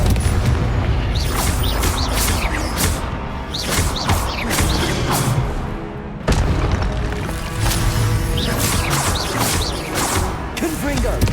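Confringo fire-spell explosions from Hogwarts Legacy, a rapid barrage of loud booming blasts and crashes, dense and continuous through the whole stretch with a brief break midway and voices mixed in.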